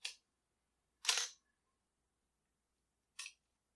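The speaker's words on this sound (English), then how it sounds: "When you press it all the way down, the shutter sound is like not that bad actually." Canon EOS 600/630 SLR shutter fires three times, each a short crisp mechanical snap with a brief whirr, spaced unevenly and heard alone against silence.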